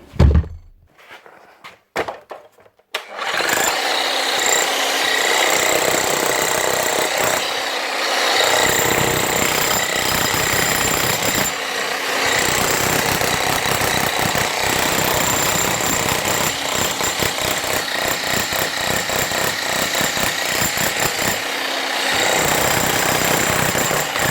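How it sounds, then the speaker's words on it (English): After a few short thuds, a Bosch GSH11E electric demolition hammer, just repaired after a rusted tool holder, starts and runs continuously, loud and close, with a rapid pounding rhythm. "That's her. Up and running again."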